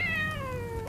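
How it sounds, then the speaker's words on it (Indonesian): A domestic village cat gives one drawn-out meow that slides downward in pitch, clear and close, with no voices over it. "kucing kampung, kucing dom."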